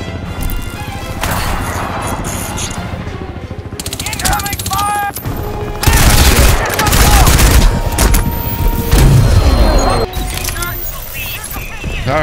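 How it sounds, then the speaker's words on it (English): Enemy gunfire rattles in Crysis 2 Remastered, loud bursts of automatic fire and crashing impacts that swell and ebb, with a voice talking amid the shooting. "Incoming fire!"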